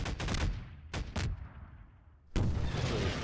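Explosions and gunshot-like blasts in Garry's Mod, a series of sharp booms followed by long rolling echoes that fade, then another loud blast rumbles on.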